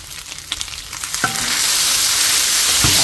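Semai noodles frying in a pan, a few light stirring scrapes at first, then a loud, steady hiss of sizzling that swells and holds close up, with no voices.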